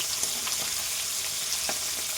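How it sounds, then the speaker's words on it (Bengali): Shol fish fries in hot oil in a wok, giving a constant close, hissing sizzle with faint scattered crackles throughout and no voices. "আমি এখন এই মাছগুলোকে ভালোভাবে ভেজে নেব কড়াই ভালোভাবে গরম করে নিয়ে তেলটা ভালোভাবে গরম হওয়ার পর"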